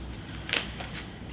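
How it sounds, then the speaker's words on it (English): A tarot and oracle card deck is shuffled in a brief riffle, one short crisp burst of card flutter over a low steady background hum. "Let's do another little shuffle."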